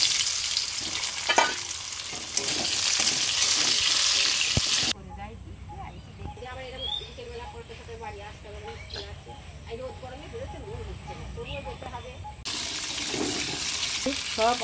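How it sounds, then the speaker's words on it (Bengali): Taro fries in oil in a pan, hissing loudly at the start and end, with a quieter stretch in between that carries softer sounds and a faint high tone. "কচুটাও ভালো করে ভেজে নেব।"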